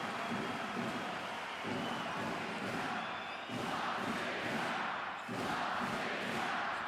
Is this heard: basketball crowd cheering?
yes